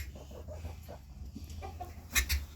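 Turkey hens and chickens clucking nearby in a homestead yard during nesting-box building, soft irregular clucks throughout, then two louder, sharper calls near the end.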